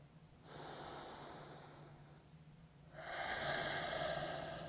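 Slow, audible breaths during a seated stretch: a long airy exhale, a pause, then a stronger, louder breath, close and intimate with no talking.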